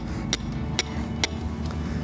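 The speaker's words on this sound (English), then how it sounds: "Hammer another stake in." A hammer drives a stake into the ground while a corner is being squared with the 3-4-5 method, producing three sharp, evenly spaced strikes and a fainter fourth over a steady background hum.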